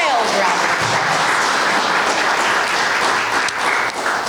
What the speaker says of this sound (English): Let's give him a wild round of applause.